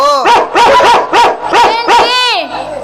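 Dogs bark loudly and close by during a stage comedy drama performance, about six sharp barks in a quick, uneven run that ends in a trailing whine.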